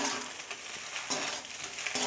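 Sauce being stirred into egg pasta in a hot pan, a steady close scraping and sizzling with soft rhythmic swishes of the spoon, no voices.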